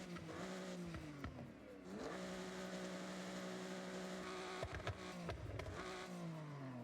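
An upgraded car engine in a video game revs up and down through rising and falling pitch sweeps, faint and steady with a few clattering bumps, no speech.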